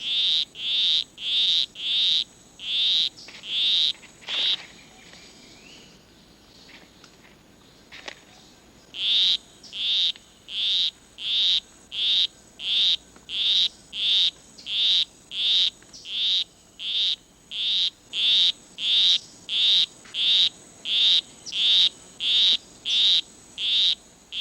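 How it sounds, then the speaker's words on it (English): A male poison arrow frog in a rain forest repeats one short, bright call at a steady rhythm, near and clear, with a brief break partway through before the series resumes. "A male poison arrow frog is courting a female. With his monotonous song, he will try to entice her to follow him under a leaf"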